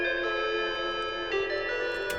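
Sustained, chord-like synth tones built from a car sample and run through a low-pass filter drone steadily for about two seconds, with a slight swell near the middle and no voices.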